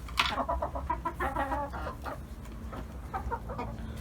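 A chicken clucks in short, uneven bursts, close by and moderately loud, with a low background rumble between the calls.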